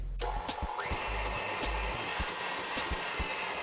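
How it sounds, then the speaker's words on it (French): A stand mixer whips cream into chantilly at higher speed, giving a steady, fairly loud mechanical whir with a rapid rhythmic clatter running throughout. "finissez de battre votre crème à vitesse plus soutenue pour serrer la crème chantilly."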